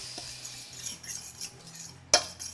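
A spoon stirs salt and other dry tortilla ingredients in a bowl: a soft, quiet scraping over a low room hum, ending with one sharp clink of metal against the bowl.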